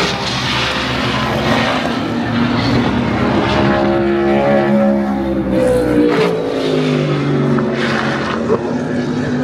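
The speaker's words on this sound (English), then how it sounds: "They're doing a practice right now, I think, for the Super Trofeo races." Super Trofeo race cars lapping in practice at the Circuit of the Americas, engines roaring loudly and continuously with rising and falling pitch as cars accelerate and pass, several overlapping at close to mid distance.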